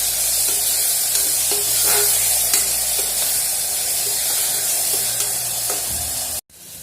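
Ground paste for chicken biryani sautéed in a pan, with loud continuous sizzling and hissing and repeated scraping strokes of a stirring spoon, ending in a sudden brief cut.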